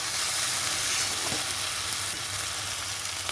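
Stingray fish curry being slowly stir-fried in a pan, giving a steady close sizzle and hiss throughout with faint stirring scrapes underneath and no talking.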